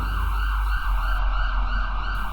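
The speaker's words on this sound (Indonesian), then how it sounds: "Dengan suara sirine yang terus terdengar sepanjang jalan" An ambulance siren wails steadily and loudly throughout, with a constant low road and engine rumble underneath as the vehicle drives along the street.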